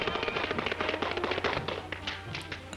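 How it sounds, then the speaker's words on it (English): Fred Astaire taps out a fast, dense run of sharp, crisp tap-dance strikes in the 1935 film Top Hat, under a soft musical backing, close and loud with a brisk irregular rhythm. "he's making all that noise with his feet."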